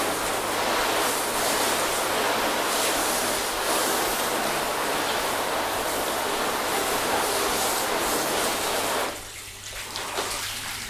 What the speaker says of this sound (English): get the hose out, and let's get to rinsing